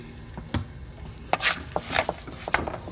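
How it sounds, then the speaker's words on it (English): Rice is stirred in vegetable oil in a pan with onion powder, with a soft sizzle under a few scraping, clacking strokes of a spoon against the pan, close and irregular. "Gonna stir it up for about a minute."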